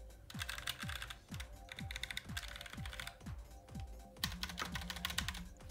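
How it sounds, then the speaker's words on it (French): Close-up typing on a Roccat Vulcan TKL keyboard, a quick run of soft key presses in bursts with brief pauses. "qui tapote ses petits claviers."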